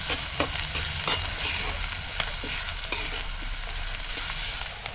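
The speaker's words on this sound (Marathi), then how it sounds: "आपल्याला ह्याच्यात कांदा टाकायचा आहे आणि हा कांदा आपल्याला असा नरम करून घ्यायचा" Onion softening in a pan for a Konkani dried-shrimp and brinjal dish, a dense steady sizzle close by with a few sharp taps of a stirring spoon, no voices.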